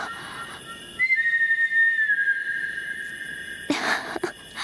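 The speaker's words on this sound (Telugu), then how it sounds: "అది మా రాహుల్ విజిల్." A single person whistles one long, steady sustained note lasting about a second, then a brief sharper burst follows, heard clearly against a quiet background with no talk.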